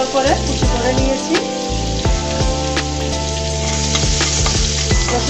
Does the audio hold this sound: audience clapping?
no